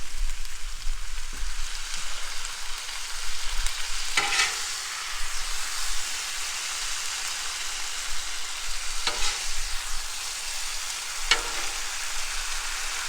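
Chicken and shrimp fajitas sizzle steadily on a Blackstone griddle, a dense, close hiss that runs throughout, broken by a few scrapes and clicks of a spatula.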